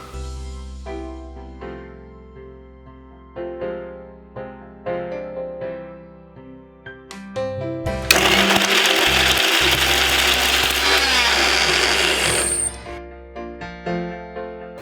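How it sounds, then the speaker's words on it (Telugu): A kitchen mixer grinder blends orange peels with a spoonful of yogurt for a homemade face pack. A loud, steady whirring roar runs for about four seconds, with soft background music before and after it. "ఇప్పుడు ఈ తొక్కల్ని మిక్సీ జార్లో వేసుకుందామండి ఈ మిక్సీ జార్లో ఒక స్పూన్ పెరుగు కూడా వేసుకోవాలండి"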